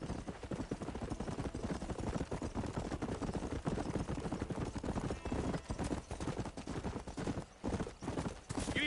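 Horse hooves pound in a fast galloping clip-clop rhythm in the Western video game Red Dead Redemption, close and continuous, with brief breaks near the end and an occasional whinny.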